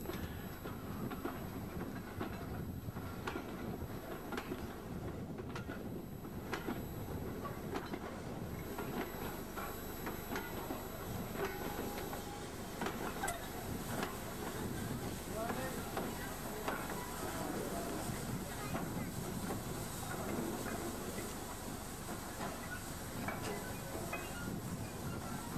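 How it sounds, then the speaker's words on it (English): Continuous rumble and rattle of a train rolling along the track at Washford, a long steady passage with faint clickety-clack, heard from a moderate distance. "And there should be a train coming in from the opposite direction"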